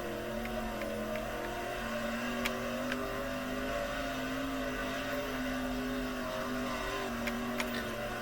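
A sprint car engine in the World of Outlaws racing game drones loudly and steadily, its harmonic pitch rising and falling with throttle changes throughout, with no talking.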